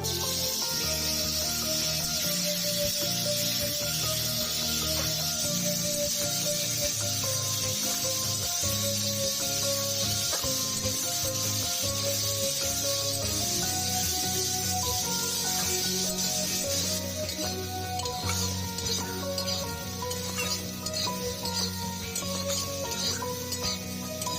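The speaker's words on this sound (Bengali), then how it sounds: "এই তেলের মধ্যে সিদ্ধ করা এঁচড়টা ভেজে নেব" Boiled jackfruit fries in hot oil with a steady, close hiss and sizzle that runs evenly throughout, mixed with faint background music and no talking.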